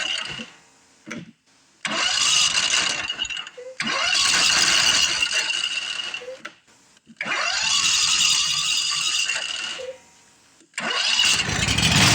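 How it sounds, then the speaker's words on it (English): A Briggs and Stratton 25hp V-twin engine with a no-power fault runs in loud bursts separated by brief pauses, sputtering and roaring close by with no voices. "I think the motor actually sounds good"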